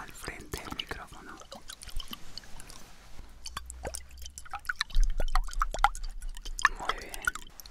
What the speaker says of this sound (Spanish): Tienen que agitar suavemente las botellas y hacer sonidos con esta agua